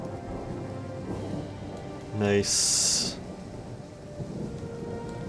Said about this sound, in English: Oh, and we've got a thunderstorm.